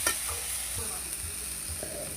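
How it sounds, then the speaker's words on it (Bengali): A spice paste of ginger sautés in a pan, soft steady sizzling broken by a few scraping stirs of a spoon, close and fairly quiet with no voices. "ভালো করে কষিয়ে নেব।"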